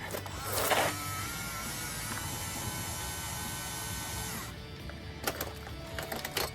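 Navtek cordless flaring tool running while clamped onto a flaring block, a steady close electric motor whir lasting several seconds before cutting off, followed by a few clicks and handling knocks.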